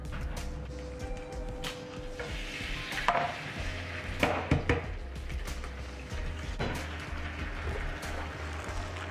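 Eggs being scrambled in a round frying pan, a steady sizzle and fry with scraping and stirring clatter from a utensil, a few sharper knocks near the middle, close and moderately loud.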